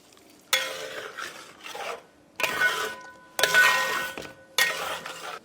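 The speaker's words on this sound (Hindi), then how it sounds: "इसमें हम मिलाएंगे आधा चम्मच देगी मिर्च, और इसे हम मिला देंगे चिकन में" Butter melted with half a spoon of deggi mirch chilli being stirred into chicken in a pan for chicken changezi, making four scraping bursts with short pauses, close and moderately loud, no talking.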